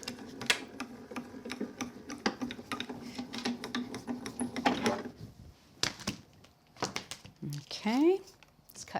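Grand Calibur die-cutting machine rolling a cutting plate with taped card through, a steady mechanical grinding and clicking for several seconds, followed by handling clatter and a brief squeak.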